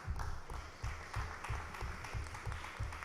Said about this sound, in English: a round of applause please for our sponsors